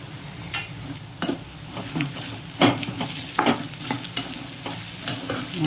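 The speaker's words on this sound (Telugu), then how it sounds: "ఇప్పుడు ఇంకొక సారి మనం కలిపేస్తాము చూడండి ఎంత బాగా వేగిపోయిందో" Ivy gourd slices frying in a pan are stirred with a spatula, a steady, low sizzle overlaid with repeated scraping and tapping strokes against the pan, close and fairly loud.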